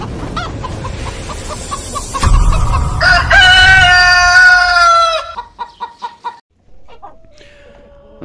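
Brahma chickens crow loudly and close by in a long, rising cock-a-doodle-doo, with clucking around it and a quick run of short clucks as the call ends.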